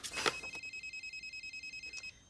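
A telephone on a sitcom set rings, a sharp bell burst followed by a steady repeating electronic trill, close and fairly faint with no talk over it.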